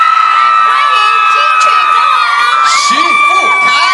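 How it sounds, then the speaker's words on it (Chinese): A large outdoor concert crowd at a summer carnival in Hualien cheers and screams, a loud continuous roar with high shrieks and whoops throughout, and an announcer's voice talks over it. "我不知道你们尖叫声还在不在？"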